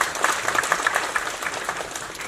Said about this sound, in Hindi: मैं चाहूंगा हमारे सभी मुख्य अतिथियों के लिए आप जरा जोरदार